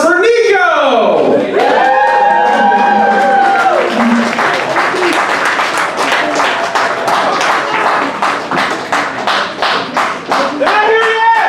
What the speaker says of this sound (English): Please give a huge round of applause for Nico!